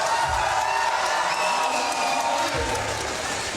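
Crowd at a FIBA 3x3 World Tour Finals basketball game cheering and whooping, a dense continuous roar with a couple of deeper shouts rising out of it.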